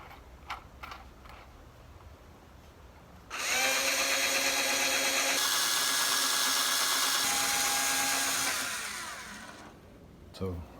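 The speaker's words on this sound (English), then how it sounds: "I have to use a bigger drill to make the holes bigger" A power drill whirs loudly for about six seconds, its pitch shifting as it enlarges holes for a spoiler wing on an Acura RSX Type-S, with quieter ambient noise before and after.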